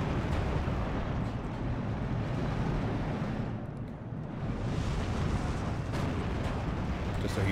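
A large tank battle in the war game Steel Division 2 rumbles as a dense, distant wash of gunfire and explosions, with a brief dip in intensity midway before building again.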